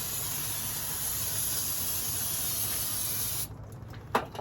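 Brake cleaner sprayed from an aerosol can onto a filter while fixing the 4WD on an OBS truck: a close, loud, continuous hiss that stops sharply after about three and a half seconds, followed by a faint clunk.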